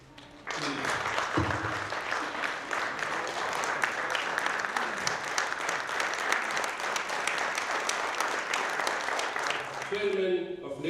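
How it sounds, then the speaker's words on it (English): A farewell standing ovation at an annual general meeting in Abu Dhabi: dense, sustained applause from a large crowd that starts abruptly and holds at full strength for about ten seconds before tapering. "I would like all to have a standing ovation to him"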